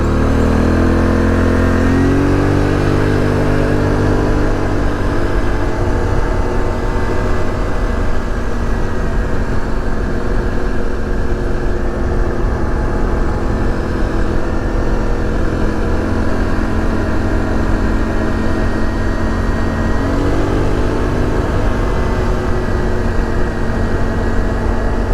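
An ATV engine riding up the Buffalo Mountain trail, a loud, continuous mid-pitched drone that rises and falls as the rider throttles and shifts, close and steady throughout.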